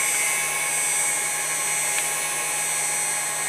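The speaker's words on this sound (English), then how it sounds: "turn the spindle on" A CNC router spindle on a 6040 machine runs at a commanded 10,000 RPM, giving a constant, close tonal whine that stays even throughout.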